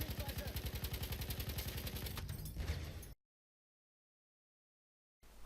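A Hellriegel 1915 submachine gun in Battlefield 1 fires a rapid sustained automatic burst for about three seconds, loud and close, then cuts to silence.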